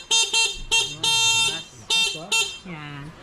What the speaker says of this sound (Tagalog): And meron siya busina.